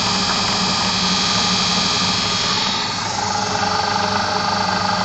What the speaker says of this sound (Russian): Обороты мотора.